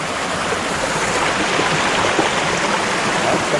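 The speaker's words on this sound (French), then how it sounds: "Petit ruisseau." A small mountain stream on a trail toward Lac d'Estaens in the Pyrenees flows with a steady, close, broadband rush of running water, with no voices.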